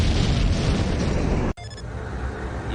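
A C4 charge detonates in a Nuclear Strike cinematic on the PlayStation 1 as a loud, sustained roaring blast. The roar cuts off sharply midway, then a lower rumble continues to the end.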